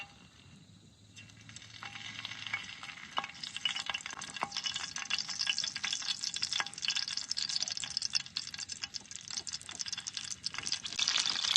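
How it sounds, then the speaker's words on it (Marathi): Green chillies frying in oil on a hot griddle over a low flame: a steady, close sizzle that thickens after the first second and carries on with scattered sharp pops and spits, with no talking. "आता मिरच्या ठेवून घेतल्यात त्याच्यात आणि जाळा अगदी असा बारीक लावलाय."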